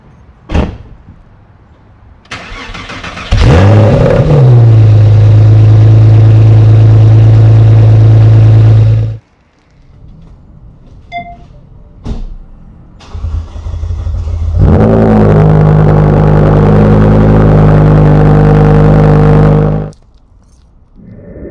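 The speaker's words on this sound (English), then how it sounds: "One of the things I want to test out with my mic is how my car sounds on a cold start" A Porsche 911 cold starts twice: a car door thuds, then the starter cranks and the engine catches with a loud, steady, close idle that cuts off. After a quiet gap with small clicks, a second start and idle follow.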